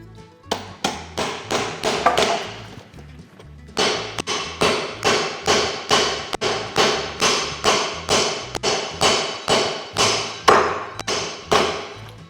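A square wooden peg is hammered into a round hole with loud, close, steady blows about two per second, each sharp knock trailing a brief ring, pausing once before the rhythmic pounding resumes.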